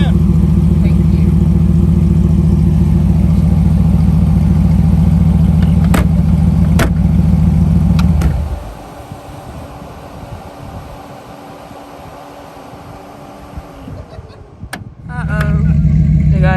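A truck engine idles steadily out in the desert, a loud low drone that cuts out abruptly partway through, leaving quieter ambient sound before the engine rumble returns near the end.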